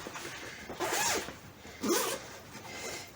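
The zipper of a cushion cover for a mattress-style cushion is pulled fully open in two quick rasping strokes, close and clear, with no talking.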